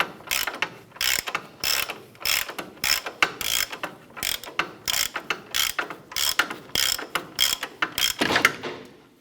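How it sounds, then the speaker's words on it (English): A ratchet with a 22mm socket turns the upper ball joint nut on a 1994-2004 Chevy S10, giving a close, steady series of sharp rapid clicks in repeated bursts, with no talking. "We're now going to go ahead and remove that nut using our ratchet"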